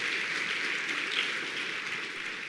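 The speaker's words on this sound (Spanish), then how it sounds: "darle un aplauso a Jorge y a Luz" A church congregation applauds Jorge and Luz, a dense, even wash of clapping from many hands that holds steady throughout without a break.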